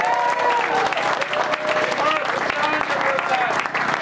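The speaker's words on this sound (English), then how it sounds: "Give yourselves a hand for coming out today." Outdoor crowd at a community event in Hope, BC giving a steady round of applause, loud and dense, with some voices and cheers mixed in.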